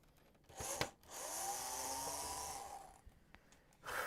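A power drill whirs against a PS5 console in one sustained burst of about a second and a half, rising and falling in pitch, framed by short clicks and a brief handling noise before and after.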